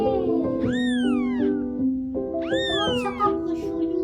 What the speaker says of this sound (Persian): چه دلبری میکنه این گربه